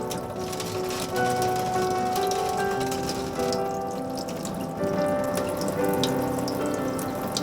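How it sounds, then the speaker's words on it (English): Running water rinses old soil from the roots of a Nepenthes pitcher plant during repotting, a steady close splashing stream like a tap over a sink, continuous with small drips and surges. "Wash off the old soil with water."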